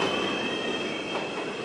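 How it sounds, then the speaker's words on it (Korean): A subway train rumbles steadily along the rails, with a sustained metallic squeal from the wheels over the noise of the carriage. "지하철을 타고 이동하는 순간"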